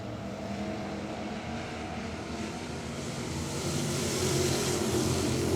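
Thunder Bomber race cars circling Travelers Rest Speedway, a continuous, distant engine drone that slowly grows louder as the pack approaches, with no clear voices.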